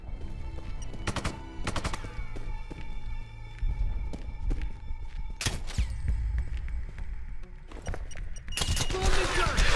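Gunfire in the video game Sniper Ghost Warrior 2, sharp shots and short bursts spread through the clip over game ambience and a throbbing low background, with a voice talking in places.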